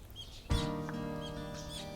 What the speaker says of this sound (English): Outside the window, I could hear morning bird song that sounded totally different from what I heard on weekdays.